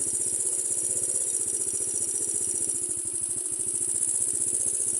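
A motorcycle engine idles close by at a steady low chug, its rapid even pulses running throughout with no voices over it.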